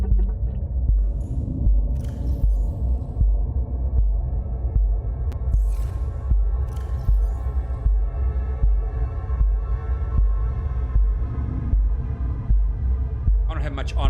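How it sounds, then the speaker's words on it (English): A deep, rhythmic heartbeat-like throb pulses steadily beneath a low rumble and hum in the underwater game Subnautica, with faint ambient tones drifting over it. "it's like, it sounds like your heartbeat."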